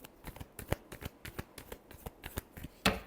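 Tarot cards are shuffled by hand in a quick series of crisp riffling flicks and slaps, close and fairly quiet, ending in a louder final riffle.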